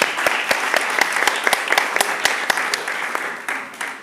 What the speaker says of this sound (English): Let's give a round of applause to our hosts.